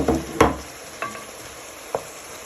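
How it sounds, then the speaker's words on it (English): Lemon zest being stirred in a frying pan for a lemon and garlic chicken dish, a few soft scraping stirs near the start and a couple of brief clinks later over a faint, steady sizzle. "you're just going to give that a little stir for a minute or two"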